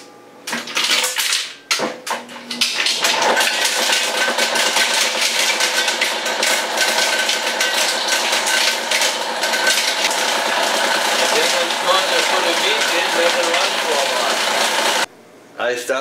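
A meat mixer or bowl cutter runs continuously, churning lean meat with ice for Thuringer bratwurst, giving a steady loud mechanical whir with rattling clatter throughout and a brief stop near the end.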